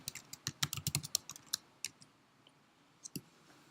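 Quick bursts of typing on a computer keyboard, close and fairly quiet, a dense run of clicking keystrokes followed by a pause and a couple of final taps.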